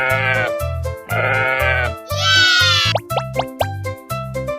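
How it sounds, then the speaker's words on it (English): A fluffy sheep bleats several times in a row, close and loud, with short plopping, boing-like sounds near the end. "The sheep, the fluffy one. I'm a sheep."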